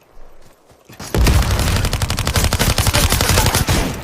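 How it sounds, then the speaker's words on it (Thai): MP5 submachine gun fire in the video game Super People: after a brief quiet lead-in, a loud rapid burst of automatic shots rattles on continuously, dense and close. "MP5 ยิงระยะนี้เนี่ยโกงไหมวะ"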